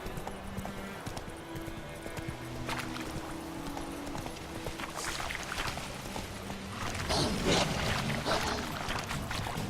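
A horse's hooves clip-clop steadily across the ground in the video game The Witcher 3: The Wild Hunt, growing louder and busier toward the end amid game ambience and faint speech.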